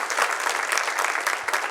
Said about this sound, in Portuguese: Vamos aplaudir o Senhor então, né?